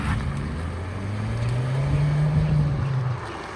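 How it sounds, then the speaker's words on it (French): A 2020 Ford Focus ST diesel engine idles and revs briefly, a low, gruff drone swelling slightly then easing back, heard alone. "Qui dit diesel dit sonorité mazoutée"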